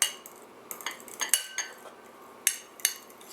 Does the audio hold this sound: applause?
no